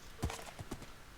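Horse hooves in the Minecraft modpack GregTech New Horizons, a few quick clip-clop steps, fairly close and short, with no talk over them.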